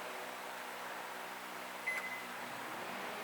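A quiet, steady hum of a microwave oven running on a Bluetti AC200P power station, with a single short electronic beep partway through.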